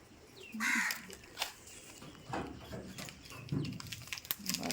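Crows caw repeatedly outdoors in the morning, a few harsh calls rising at intervals over light background noise, one louder near call early on and others fainter.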